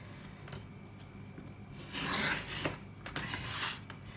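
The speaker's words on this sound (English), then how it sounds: "I took my ruler, and this is called scoring. It's when you don't cut all the way through." Dry scratchy rasping of a knife blade drawn along a ruler to score cardboard, with light taps followed by a louder, longer scraping stroke and a few shorter passes, close up and without speech.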